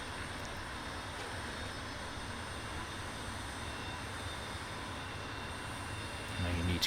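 Leonardo M-346 jet in Microsoft Flight Simulator: a steady, even jet-engine roar holds throughout at moderate level, swelling slightly louder in the last half second, with no speech.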